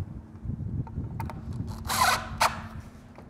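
A drill drives a screw into exterior door trim during a door replacement: short bursts of motor whir and rubbing, then a louder grinding surge as the screw bites into the wood, close and without speech.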